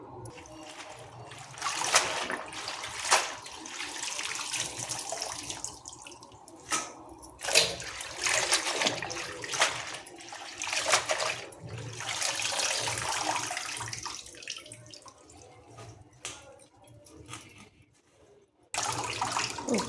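Water drains and trickles from freshly washed leafy greens in a colander in a home kitchen, a steady close splashing and dripping that swells and fades in places.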